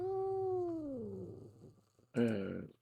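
An alley cat gives a long, loud, falling meow up close, then a second, shorter yowl after a brief pause, with low background hum and murmur.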